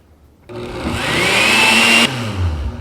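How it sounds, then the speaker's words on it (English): A countertop blender runs close and loud on a skirt steak marinade, its motor whirring up in pitch for about a second and a half before cutting back and winding down, with no voices. "Alright, so that's all blended up."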